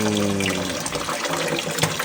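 Running water rinses tilapia fish, a steady close splashing and trickling stream that fills the short stretch without any talk.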